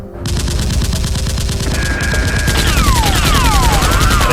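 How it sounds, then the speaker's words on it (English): Toy Nerf guns fire in rapid, dense bursts of gunfire during a staged action fight, loud and continuous, with descending whistling effects layered over the shots toward the end. "The henchman locates SWAT and starts shooting."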